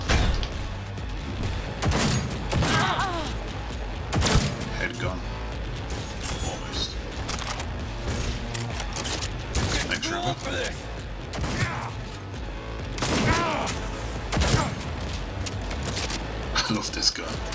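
Gunfire from a gun in Cyberpunk 2077 cracks out in sharp, separate shots and short bursts spread across the stretch, with mechanical clicks between them and a voice speaking quietly underneath.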